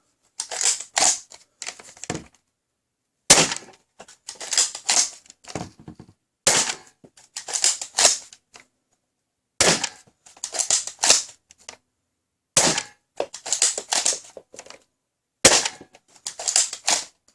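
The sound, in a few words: Rhinoceros BJ.02 toy blaster firing Max Darts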